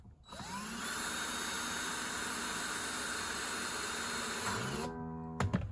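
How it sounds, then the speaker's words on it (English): A DeWalt cordless drill whirs steadily while winding the strings onto the tuners of a Gibson Les Paul Modern Lite, a continuous high motor whine that spins up at the start and winds down near the end. "I think it's easier on the headstock to use a drill than to hand wind it"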